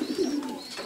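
A breeding pigeon coos in a soft, low, throaty burst, close by and fairly quiet, with a faint high whistle above.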